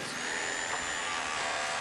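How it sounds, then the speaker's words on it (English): Drills and construction machinery drone at an Olympic construction site in Rio de Janeiro, a steady, broadband mechanical whine and hiss that continues without a break for the whole stretch. "the constant drone of drills."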